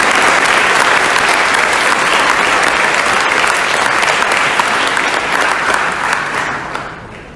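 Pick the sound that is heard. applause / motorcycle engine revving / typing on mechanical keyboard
applause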